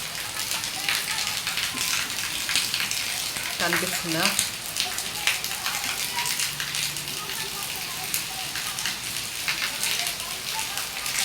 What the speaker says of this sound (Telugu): ఇగో ఇప్పుడైతే బాగా వర్షం పడుతుంది.